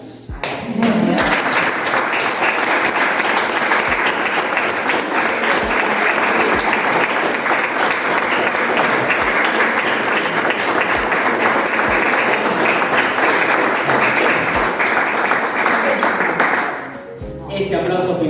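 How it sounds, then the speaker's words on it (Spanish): Long, loud, steady audience applause at a book presentation, continuous dense clapping with a few low thumps, stopping abruptly near the end as a voice starts speaking. "este aplauso final es para Mark Twain"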